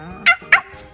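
A small dog gives two quick, sharp, high-pitched barks close by, separated by a brief pause, with nothing else audible around them.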